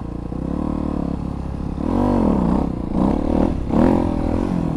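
A motorcycle engine revs hard as the rider pulls a wheelie from a stop or slight roll, rising and falling through several loud, close throttle bursts with some clattering.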